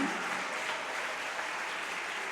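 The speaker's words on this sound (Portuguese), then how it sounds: "Pode aplaudir" A church congregation applauds during worship, a steady wash of clapping that holds at an even level for the whole short stretch, with no clear voice above it.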